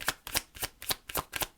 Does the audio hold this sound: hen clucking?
no